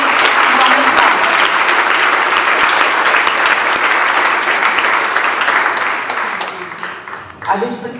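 Dense, sustained applause fills a church conference hall as a large crowd claps continuously, loud and even before tapering off at the end, with some voices mixed into the crowd noise.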